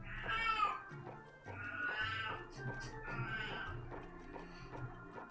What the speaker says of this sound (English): We'll just listen to Miss Kitty sing